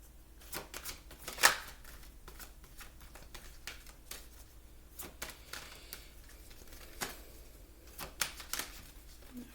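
Oracle cards being shuffled, a quiet run of crisp riffling flicks and soft taps in irregular bursts, close and faint, with no voices.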